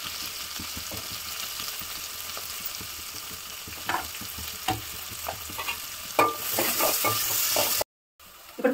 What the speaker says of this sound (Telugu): ఇప్పుడు ఫ్రై అయింది కదా ఆనియన్స్